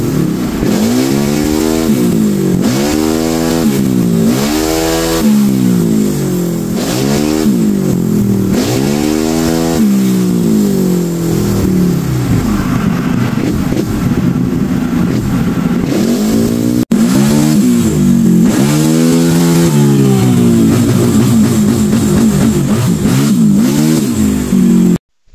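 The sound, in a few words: motorcycle engine revving during ECU tuning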